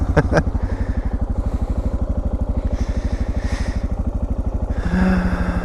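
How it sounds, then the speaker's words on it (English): A Suzuki motorcycle engine fires up and settles into a loud, close, steady thumping run with a fast even pulse, with brief clatter at the start and no talking. "You always gotta pull a clutch in to start a Suzuki."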